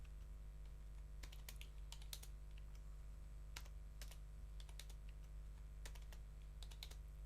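Someone types on a computer keyboard in light, irregular clusters of keystrokes over a steady low hum, with no voices.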